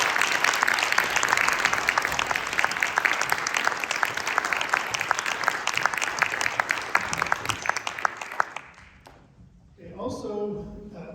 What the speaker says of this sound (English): If we give them one more big round of applause,